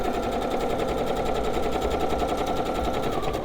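A sewing machine runs steadily through a quilt seam, its rapid even clatter of needle strokes continuous and close, with no talking.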